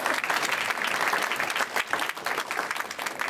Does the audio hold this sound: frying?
no